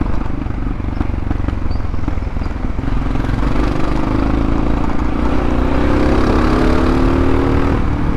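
Hero Xpulse 200 motorcycle ridden standing up over bumpy ground, its engine droning loud and close with wind rush and a rising tone as it accelerates.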